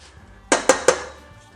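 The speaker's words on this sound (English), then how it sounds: "Give my pasta a nice stir here." Spaghetti stirred in a pot for aglio e olio in a home kitchen, giving three sharp metallic knocks of utensil against pot in quick succession, close and fairly loud, with a low background hum.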